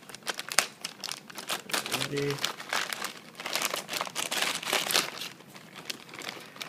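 Plastic and cardboard packaging of a Star X920 phone, also sold as the HTC Butterfly X920, crinkles and rustles continuously as it is opened with scissors, close and fairly loud, with a brief spoken word near the start.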